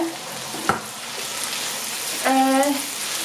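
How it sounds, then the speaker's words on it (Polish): Vegetables for a zucchini lecso fry in a pot, giving a steady low sizzle throughout, with a brief sharp clatter early on and a faint voice humming or speaking near the end. "No i chwilkę jeszcze podsmażymy."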